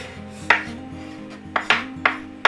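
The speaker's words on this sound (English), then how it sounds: "We will first start with roughly chopping a medium-sized onion." A knife chops through an onion on a cutting board: four sharp, close thuds at an uneven pace, with a low hum underneath.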